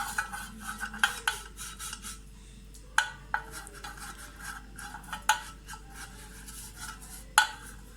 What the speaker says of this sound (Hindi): अब आपने क्या करना है कि घी की मदद से इसके पेंदे को ब्रश से सारी तरफ से इस तरह से